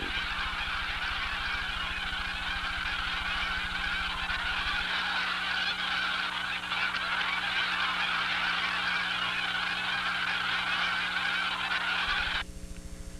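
Dense flocks of migrating geese honk continuously over Gulf Coast marshland below Lake Charles, Louisiana, a loud overlapping chorus of many calls that thins slightly near the end.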